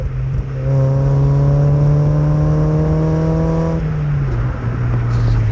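A Mazda MX-5 fitted with a Cobalt exhaust revs with a loud, rising engine note held for a few seconds, then drops back to a throaty idle, close and with no talking.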